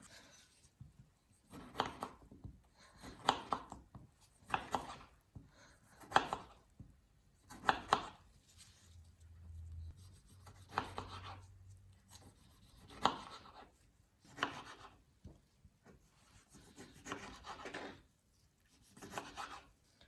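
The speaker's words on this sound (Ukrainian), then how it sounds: "Беремо помідор і будемо його нарізати на тоненькі кубики." A knife chops a tomato into small cubes on a cutting board, giving a steady series of close, crisp thuds and scrapes at an even rhythm with short pauses, no talking.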